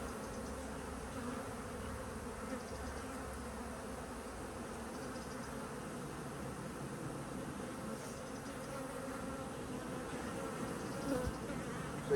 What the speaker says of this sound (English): So it could be that the bees were thinking of swarming 12 days ago